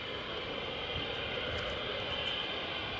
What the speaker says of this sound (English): these jets taxiing on a single engine